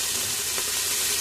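Meatballs sauté with garlic, onion and lemongrass, filling the clip with a dense, even hiss of frying and no distinct stirring strokes.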